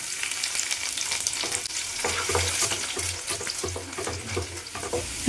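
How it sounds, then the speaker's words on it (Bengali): Chopped garlic cloves frying in hot oil in a wok, a steady close sizzle with crackling pops and occasional scraping stirs against the pan, no voices. "লাল লাল করে ভেজে নেব রসুনের কোয়াগুলো"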